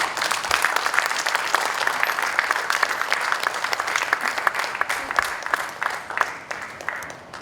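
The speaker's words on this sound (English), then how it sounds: "A huge round of applause for them." An audience at a stage performance about Guru Nanak's travels claps warmly as two speakers come up, a dense steady round of applause at moderate volume that tapers off near the end.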